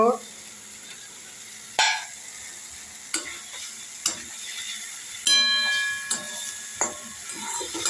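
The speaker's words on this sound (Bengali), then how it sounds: "আর একটু নুন দিলাম। এইবার পনির কটা দিয়ে দেব।" Paneer pieces go into a hot pan and are stirred, giving a steady sizzle with several sharp scrapes and clinks of a utensil against the pan, close and fairly quiet.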